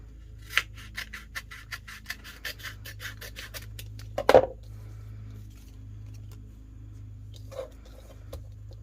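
Scissors snip steadily through a sheet of vinyl, a close series of quiet, regular rasping cuts with one sharper crunch near the middle and a faint low hum underneath.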